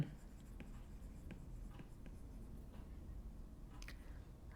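Pen writing chemistry structure diagrams on paper, heard as faint, scattered scratchy strokes and taps close by in a quiet room, with no talk.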